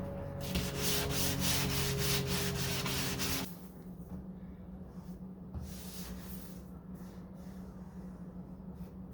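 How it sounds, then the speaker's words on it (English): A fiberglass hood on a 1969 Corvette C3 is dry sanded by hand, giving repeated scratchy rubbing strokes that are loud at first, then quieter and steadier over a low hum. "I'm just sanding without wet sanding."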